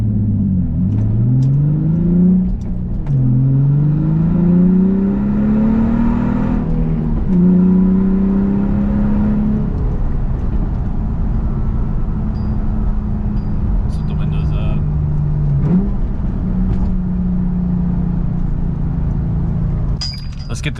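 Nissan 350Z with a muffler-delete exhaust revving up and down in several swells, the engine note rising and falling close by, with a steady idle drone between revs and some talking over it.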